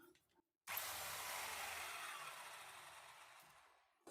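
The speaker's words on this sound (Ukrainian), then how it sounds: "Все, перфоратор працює." A rotary hammer drill running in a building site where an aerated concrete block wall is being laid, a loud steady whirring burst starting suddenly after a brief silence and running for about three seconds before stopping.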